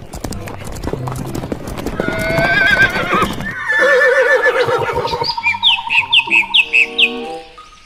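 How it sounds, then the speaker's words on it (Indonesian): A horse gives a loud, close whinny with clip-clopping hooves, ending in a rising series of rapid bleating neighs, with bird chirps mixed in. "Ini kuda."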